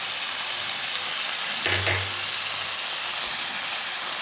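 Tomato chutney fries in a pan with salt and turmeric, a steady close sizzle with a brief stirring scrape partway through and no voices.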